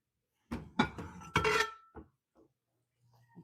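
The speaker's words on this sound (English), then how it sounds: "Let me grab my frying pan" A frying pan pulled out and handled in a home kitchen, giving a few quick clanks and knocks of metal against cookware, close and fairly loud, then a soft thump before it goes quiet.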